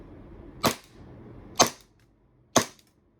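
Three sharp, evenly spaced pops ring out from an Army Armament R603 Staccato P airsoft pistol, loud and close with quiet gaps between the shots and no talking.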